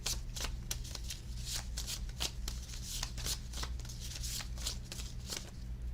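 BTS oracle cards being shuffled in quick, steady riffles and slides, close and clear against a low constant hum, with no talking.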